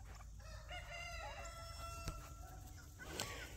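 Turkeys and chickens on a homestead, with a rooster crowing in drawn-out calls and birds clucking over a low rumbling background, moderately near, with no talk.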